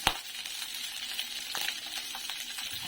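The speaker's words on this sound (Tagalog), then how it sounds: "Ito na yung gisa." Sliced onions sauté in hot oil in a pan, a steady faint sizzle with a sharp clink at the start and occasional light stirring scrapes, close up and without talking.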